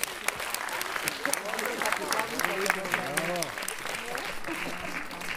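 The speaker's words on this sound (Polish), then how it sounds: "bym prosił o brawa dla wszystkich rodziców" An audience at a youth sports gala claps for the parents, a continuous wash of applause with a voice speaking over it partway through.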